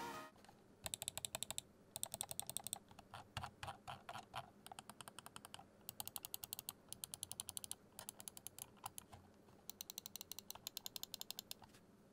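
Gamdias Zeus P1 RGB gaming mouse buttons clicked in quick runs and bursts, giving crisp, sharp, closely miked clicks that pause briefly between groups.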